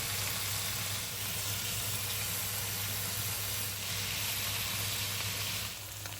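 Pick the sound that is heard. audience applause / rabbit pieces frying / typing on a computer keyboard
rabbit pieces frying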